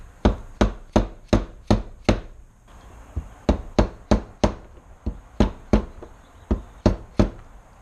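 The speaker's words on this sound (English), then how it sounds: "Try to drive it as evenly as possible into a slightly recessed position on the crankcase." A dead blow hammer strikes a socket to drive a countershaft seal into the crankcase of a 1991 Kawasaki KDX200 motorcycle: many sharp, close, evenly spaced thuds in quick bursts with brief pauses between them.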